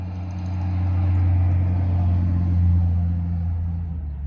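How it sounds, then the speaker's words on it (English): Loud, steady roadside traffic on a busy road: a continuous low rumble of passing cars and engines that swells and fades slightly, close by, with no talking. "it's a very loud and busy road today for some reason."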